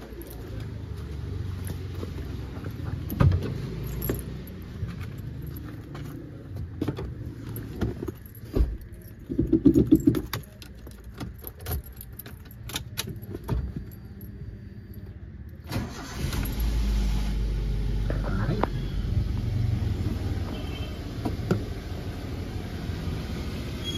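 Toyota Avanza 2006 engine cranks and starts after an oil change, then settles into a steady low idle, preceded by jangling keys and mechanical clicks, with birds faintly in the background.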